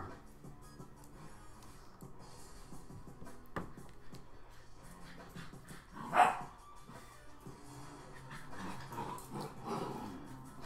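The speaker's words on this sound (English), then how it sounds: "the stream may be hearing random puppy dog sounds" Puppy barking in a room during a live tabletop game stream, a short sharp yelp or bark standing out around the middle against a low background hum, with soft bursts after.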